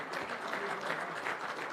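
An audience at a public lecture applauds the senior fellows with steady, dense clapping that carries evenly throughout, heard from a distance in a hall without talk.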